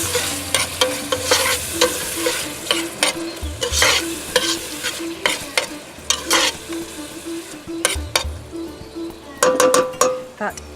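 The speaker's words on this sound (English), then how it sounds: "Give this a good stir and mix." Tomato is stirred into chicken curry in a sizzling pan, with repeated scraping strokes and light clinks of a spoon against the pan over constant frying hiss.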